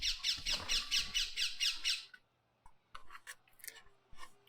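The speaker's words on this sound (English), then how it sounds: "It's collared parakeet." A collared parakeet heard through an open door lets out a quick series of about eight harsh, rhythmic squawks, followed by scattered softer chirps and small clicks nearby.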